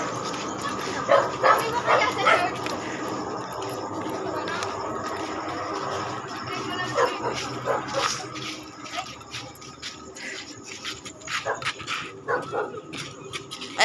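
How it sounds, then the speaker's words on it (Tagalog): A dog whimpers and yips in short, irregular bursts, close by and moderately loud, with people talking around it throughout. "Yung aso."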